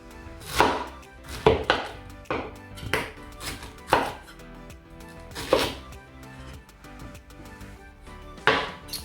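Fruit being cut with a thick knife on a board, a series of sharp, irregular chopping thuds, close and distinct, with no talk.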